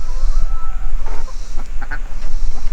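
A duck quacking in several short calls among backyard chickens, heard over steady low rumbling and scattered pecking noises, with no voices.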